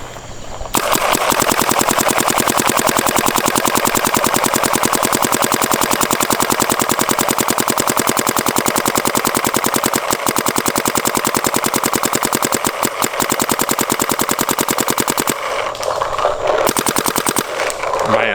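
A Planet Eclipse Geo R5 paintball marker fitted with a Twister Vortex bolt firing in a rapid, sustained stream of loud pops, close and nearly unbroken, with brief gaps near the end.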